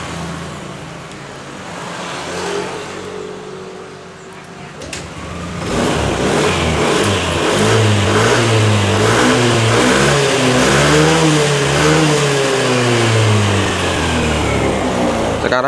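A Yamaha NMAX scooter with a starting fault is cranked, catches, and revs up and down in repeated swells, a mid-pitched engine note running steadily and fairly loud after a quieter opening.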